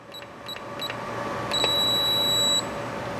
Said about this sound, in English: That long beep at the end indicates that the code was accepted.